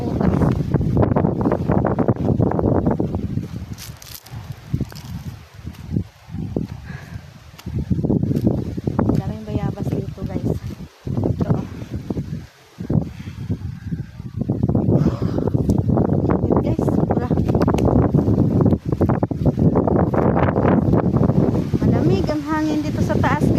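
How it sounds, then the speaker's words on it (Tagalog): Strong wind on a mountain top buffets the microphone in loud gusts, with someone talking through much of it. "hangin dito sa taas guys"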